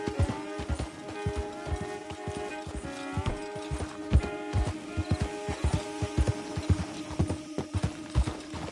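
Horse hooves clip-clop in Red Dead Redemption 2 gameplay, a steady rhythmic walking gait of close, clear hoofbeats over a soft musical backdrop.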